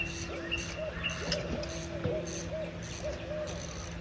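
An owl gives a series of hoots at fairly regular intervals, with a softer answering owl call mixed in over a constant humming background.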